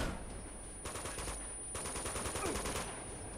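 Gunfire in the video game Uncharted 2, rapid bursts of automatic shots in two long volleys with scattered single reports between, moderately loud over a low game backdrop, no talking.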